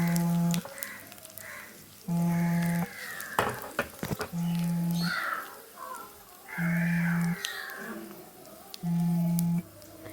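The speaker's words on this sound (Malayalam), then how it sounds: "എണ്ണ ചൂടായിട്ടുണ്ട്, കടുക് ഇടുവാണ്." Mustard seeds crackle and sizzle in hot oil, a steady frying hiss under a repeating tonal beep and crow calls, with occasional stirring clatter.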